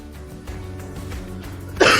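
A few soft throat sounds lead into a single sharp cough near the end, close and brief, with no talking.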